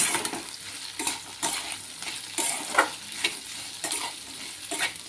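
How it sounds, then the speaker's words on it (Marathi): Okra stirred and frying in a pan, a steady quiet sizzle broken by repeated scraping strokes of a spoon every second or so, close up, with no voices. "आता आपण त्यामध्ये भेंडी टाकूया. व्यवस्थित मिक्स करून घेऊया भेंडी."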